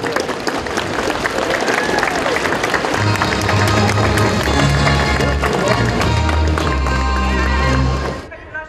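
Horses at an equestrian sports festival with a crowd of spectators in the stands, with hoofbeats, whinnying and applause mixed with loud music and a busy, dense crowd sound throughout.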